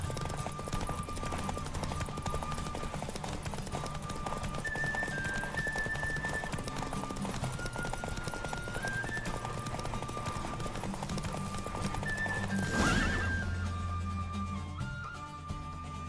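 Galloping horse hooves during a race in The Witcher 3, a fast, steady clip-clop rhythm throughout, with a brief neigh and rush of noise near the end over game music.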